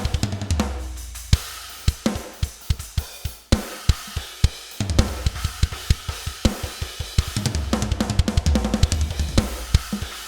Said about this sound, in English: I figured this is a really good opportunity to show you guys how I mix my drums to get them to sound like this.